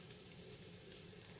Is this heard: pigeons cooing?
no